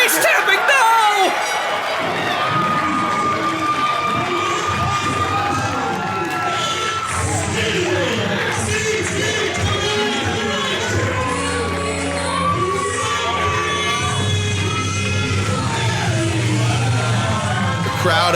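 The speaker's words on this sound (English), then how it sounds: "The crowd, as always, with a fantastic round of applause for Frankie Arion" A wrestling crowd at a championship match cheers, shouts and whoops loudly and continuously, with yells rising above the roar and a commentator talking over it.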